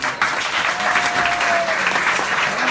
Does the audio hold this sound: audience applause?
yes